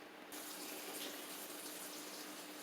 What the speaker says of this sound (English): I'm filling up the water